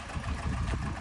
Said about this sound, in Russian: Мотор-то мы уже обговорили, стучит.